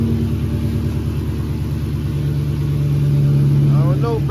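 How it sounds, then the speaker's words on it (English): A car engine runs steadily with a low exhaust rumble in a car that may have a blown motor, a loud, even drone close by that holds constant with a slight rise near the end. "I hear the exhaust, but the motor not even."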